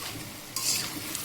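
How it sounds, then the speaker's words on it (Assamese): Food stirred and frying in a pan with salt just added, a soft steady sizzle under a brief scraping stir, close and fairly quiet, with no talking. "দি কিনে ধুনীয়াকৈ আকৌ লৰাই ঢাকোন মাৰি কিছু সময় ভাজিম"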